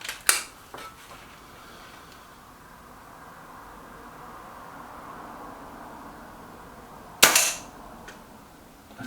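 Two sharp, close air rifle pellet shots from a Reximex Myth or Kral Puncher Maxi, a crisp crack near the start and another around seven seconds, with faint echoing clatter and quiet room hiss between them.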